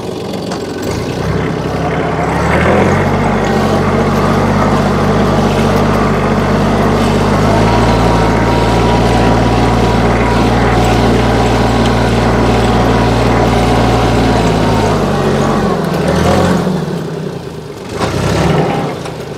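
Walk-behind tractor engine plowing a garden plot, a loud, steady mid-pitched drone that rises after a few seconds, holds for most of the clip, then drops and fades near the end, close to the listener.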